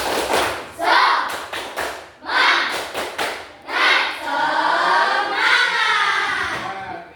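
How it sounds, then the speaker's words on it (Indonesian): Students in a classroom guidance session perform the rhythmic tepuk semangat spirit clap, patterned bursts of sharp claps and thumps alternating with group chanting voices, close and lively. "Tepuk semangat."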